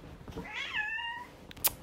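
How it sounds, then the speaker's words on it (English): A cat gives a single clear, drawn-out meow that rises and then falls, fairly close and moderately loud, followed by a few faint rustles. "Fucking cat."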